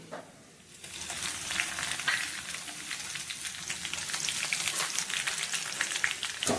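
Crushed garlic fries in hot oil for a Kerala-style jackfruit rag mixture, a dense, steady crackling sizzle that swells after a quiet start and runs close and loud throughout with no talking.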